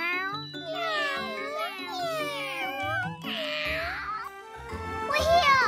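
A voice imitates a cat with a run of sung meows, repeated in close pairs and rising and falling in pitch. A light jingle and a burst of noise sit among them, and some speech is mixed in.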